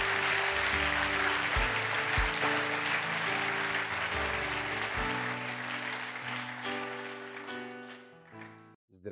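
A church congregation applauds in a sustained, dense wave of clapping that carries on for several seconds before thinning out near the end.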